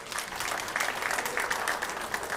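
A crowd applauding at a women's pool tournament, the 2023 Apex Wisconsin Open, with dense, steady clapping from a packed venue that holds evenly throughout.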